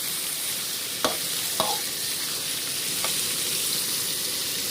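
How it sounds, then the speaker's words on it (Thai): Fish pieces being stir-fried with southern Thai curry paste in a pan, a steady close sizzle with a few sharp scrapes of the spatula, and no voices. "ผัดเลยค่ะ ให้เครื่องมันเข้ากันนะกับเนื้อปลานะคะ"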